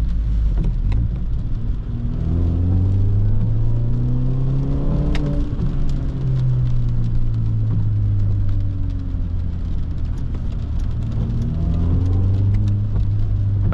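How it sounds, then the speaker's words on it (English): Stock N42B20 engine of a BMW 318ti E46 hatchback driving through city traffic, a steady low drone from inside the car that rises and falls in pitch through gear changes, with constant road and tyre rumble and no talk. "I like the noise from the engine, the stock one."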